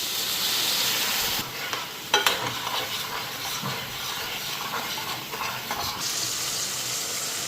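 Spice paste for a prawn curry sizzles and fries in a pan, a steady close hiss broken by stirring scrapes and clinks, with no talking.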